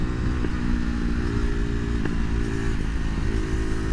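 A small KTM sportbike engine hums steadily and loud up close while riding through sweeping canyon turns, holding an even drone with slight throttle variations and no speech.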